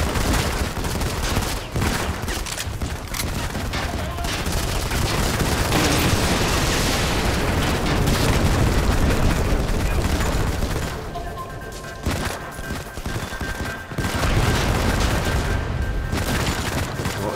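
Dense, continuous gunfire with booming explosions from the mobile shooter Modern Combat 5, loud and sustained throughout with bursts and blasts overlapping, briefly dipping before resuming.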